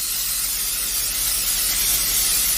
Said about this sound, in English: I'm gonna spray these generously.